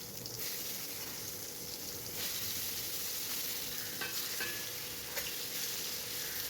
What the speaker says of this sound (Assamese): মই এনেদৰেই কাটি নিমখ আৰু হালধি দি সানি লৈছোঁ। ইয়াত কাশ্মীৰী মিৰ্চো দিব পাৰি। কাশ্মীৰী মিৰ্চটো আমি নাখাওঁ, সেইকাৰণে মানে নিমখ আৰু হালধি দিয়ে এয়া তেলত ফ্ৰাই কৰি লৈছোঁ।